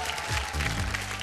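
Studio audience clapping to welcome the judges on a Bhojpuri television show, a steady dense burst of applause close by and filling the whole moment.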